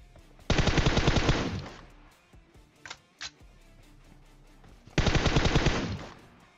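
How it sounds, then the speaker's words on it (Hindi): An M16 rifle fired by a bot in PUBG Mobile rattles out two loud sustained automatic bursts, with a couple of sharp single shots in the gap between them. "यहाँ एक बॉट मेरे ख्याल से एम सोलह पटका रहा है"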